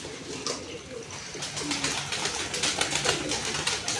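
Pigeons coo repeatedly at close range in a loft or coop, soft throaty calls overlapping in a steady chorus.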